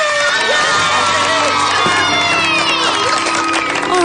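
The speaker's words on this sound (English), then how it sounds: "Kids, there's no need for all this excessive cheering." Loud, sustained cheering and shouting from a group of children, voices rising and overlapping in a continuous excited roar with occasional higher shrieks.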